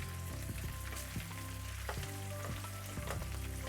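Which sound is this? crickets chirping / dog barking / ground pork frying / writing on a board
ground pork frying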